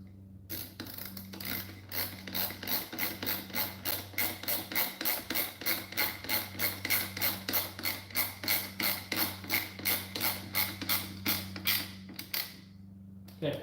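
Bolts are fastened on a 2012 Chevrolet Malibu front bumper with a rapid, rhythmic ratcheting clatter of about thirty evenly spaced clicks, moderately close, starting and stopping abruptly over a low steady hum.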